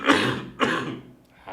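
Two rough, throaty coughs close up, one after another, with a brief pause between them.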